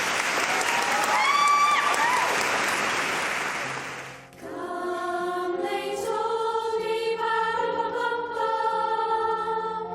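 An audience claps loudly and steadily at a university student event for about four seconds, a broad roar of hands that then gives way abruptly to music.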